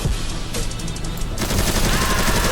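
Rapid automatic gunfire in a GTA 5 war battle, loud and close, with dense bursts of shots running continuously and intensifying partway through, no talking over it.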